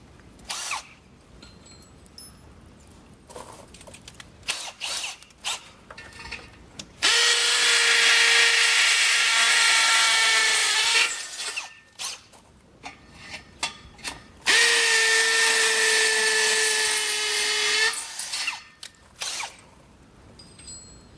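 A power drill pre-drills holes for a fence gate installation, two loud sustained bursts of whirring a few seconds each, separated by quieter clicks and handling noise.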